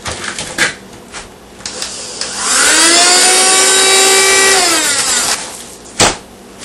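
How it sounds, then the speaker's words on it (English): A steady motor hum from a cheap vacuum sealer sealing steaks in a bag runs for a few seconds, with a rising whine as the air is pulled out, then stops with a click. "this is my vacuum sealer. It's an El Cheapo model."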